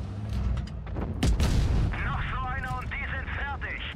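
Tank cannon fire in a tank battle video game: a deep boom bursts out amid rumbling explosions, followed by wavering electronic game sound effects.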